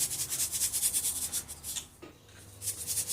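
A salt grinder cranks coarse salt into a braised steak and onion dish, a fast rhythmic gritty rasp pulsing close by, pausing briefly before resuming.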